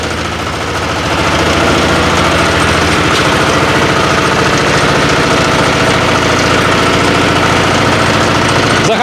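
A hybrid walk-behind tractor engine runs outdoors in cold weather with a loud, steady, chugging idle and a slight rise in level early on, with no voices over it.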